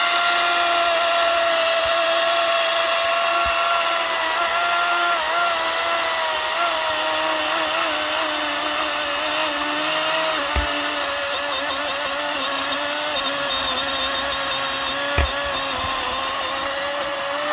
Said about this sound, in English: I'll show you how this frickin' 60-volt brushless DeWalt chainsaw works